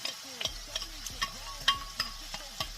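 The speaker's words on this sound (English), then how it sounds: "Then stir it very well." A spoon scrapes and knocks against a pot while stirring garlic, ginger and onions for gizzard dodo, with a soft sizzle underneath and irregular clinks up close.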